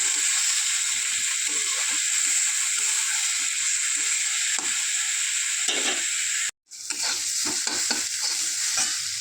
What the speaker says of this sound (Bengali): পেঁয়াজটা একটু হালকা ভাজা হয়ে যাবে।